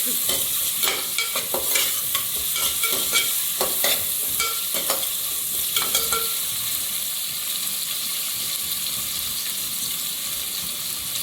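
Onions for tempering sizzle and fry in a pan, a continuous close hiss broken by the scrape and clatter of stirring in the first half, then a steadier frying sizzle, no talking.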